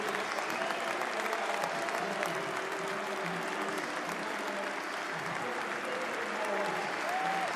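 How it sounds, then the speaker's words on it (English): Packed cricket crowd at the Oval and the England dressing room standing to applaud Joe Root's century against Bangladesh, a dense, sustained roar of clapping that stays loud and even, with faint voices mixed in. "All the Oval, all of his dressing room teammates stand and applaud."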